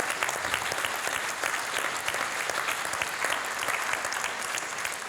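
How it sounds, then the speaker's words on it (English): An audience gives a sustained round of applause at a university veterinary sporting event, steady dense clapping throughout with no talk over it. "a round of applause for Susie"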